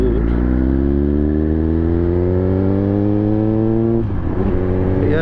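A motorbike engine running close and loud, a steady rumble that climbs gradually in pitch as it revs up, briefly dips near the end, then carries on, with no talking.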